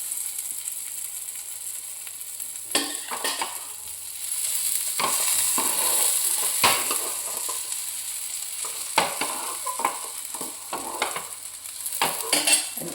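A mixed-dal tomato omelette fries in oil in a pan, giving a steady sizzle with scattered scraping and stirring clicks close by, no voices.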